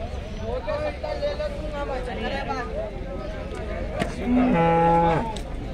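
Deep bellowing lows from water buffaloes rise over a busy crowd murmur at the Erragadda cattle market, with one long, loud call near the end.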